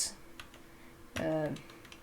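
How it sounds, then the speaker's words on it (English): A few key presses on a computer keyboard, soft quiet clicks spread across the moment, with a brief louder burst of other sound partway through. "Then you press minus next to the 0 on your keyboard"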